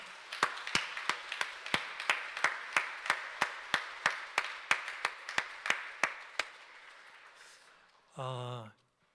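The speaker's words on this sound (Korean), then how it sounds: "얼굴 마주하고 환영의 박수를 보내드리면 좋을 것 같습니다" Slow, evenly spaced handclaps ring out during a Sunday morning church service, welcoming a visiting district official, then give way to a brief voice near the end.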